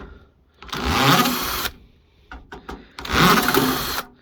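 Screws are backed out of an air fryer lid hinge with a power screwdriver in two sustained whirring bursts, separated by a few short clicks and taps, close and loud.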